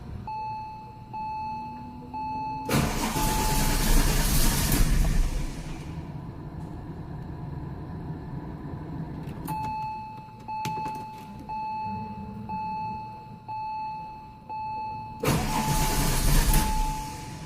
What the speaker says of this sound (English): first we're going to turn the engine over a few times to circulate the oil